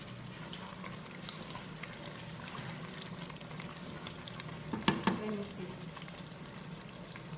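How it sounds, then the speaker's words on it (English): Steady low bubbling and sizzling of tomato sauce boiling in a pot on the stove, with a brief clatter of utensils midway and a short spoken remark. "the tomato is boiling."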